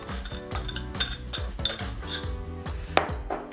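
Sugar goes into a bowl amid kitchen clatter, with ringing clinks of dishes and utensils knocking against each other in quick uneven succession, close by and with no talking.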